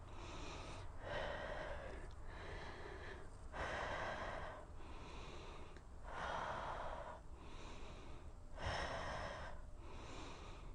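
Forceful breaths exhaled in a slow regular rhythm during a full-body strength workout, about five long airy puffs spaced a couple of seconds apart, close to the mic with no speech.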